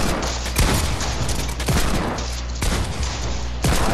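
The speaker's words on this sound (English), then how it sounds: "literally four people are shooting at me" Gunfire in the video game Fortnite, with dense overlapping bursts of rapid shots and sharp booms coming in loud waves from several shooters.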